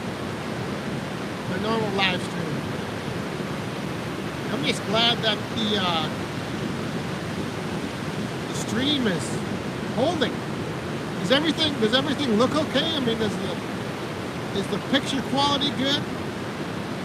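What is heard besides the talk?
ocean waves on the beach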